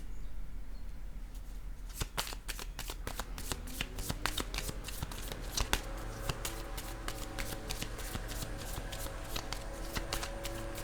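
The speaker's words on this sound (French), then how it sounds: "Je vais déposer une autre carte ici." Playing cards being set down and handled, a run of sharp crisp taps and shuffling clicks close by, busier and denser in the second half, with no talking.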